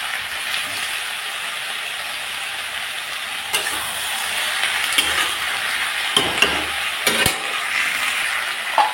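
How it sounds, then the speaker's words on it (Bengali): Kuri fish with onion fries in a pan, a constant close sizzle with occasional sharper pops and crackles toward the end, no talking. "পাঁচ মিনিটের জন্য ভেজে দিলাম।"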